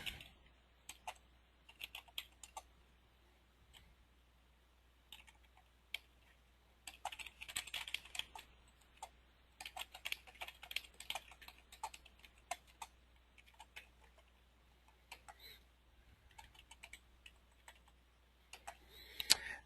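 A computer keyboard is typed on in short bursts of light clicks to enter a name into floor-covering business software, with quiet pauses between runs of keystrokes and no one speaking.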